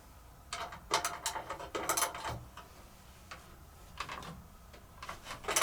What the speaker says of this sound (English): Let me try my socket.